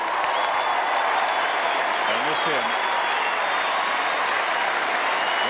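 A large crowd applauds steadily at the 1989 Hawthorn Grand Final presentation, a dense wash of clapping throughout while someone speaks briefly over it.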